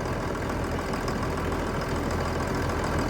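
Farm tractor engine idling steadily nearby, a dense, continuous rumbling drone with no change in pace and no voices.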